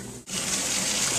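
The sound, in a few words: pouring a pot of water into a strainer in the sink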